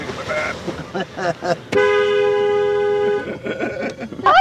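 A car horn blares in one sustained honk lasting over a second, loud and close, with brief voices before and after.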